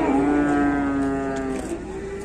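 An agitated cow gives one long, loud, close moo that holds steady and then slowly fades away, with no talking around it.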